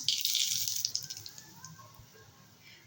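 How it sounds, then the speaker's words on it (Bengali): Bay leaves dropped into hot oil for a Bengali eggplant, tomato and fish curry, giving a loud bright sizzle and crackle that is strongest at first and settles into a softer steady fry. "তেল গরম হয়ে গেছে দিয়ে দেবো তেজপাতা"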